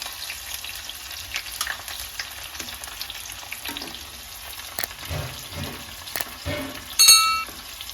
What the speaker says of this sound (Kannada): ಒಂದು ನಿಮಿಷದವರೆಗೂ ನಾನು ಈರುಳ್ಳಿನ ನೀಟಾಗಿ ಫ್ರೈ ಮಾಡ್ಕೊಂಡಿದ್ದೀನಿ